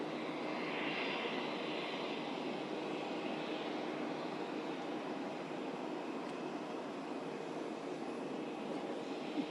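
Jet engines of Air Force One, the presidential aircraft, roar steadily and loudly at close range as a continuous broadband whine and rumble with no speech.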